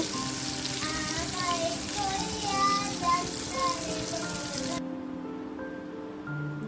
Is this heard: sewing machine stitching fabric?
no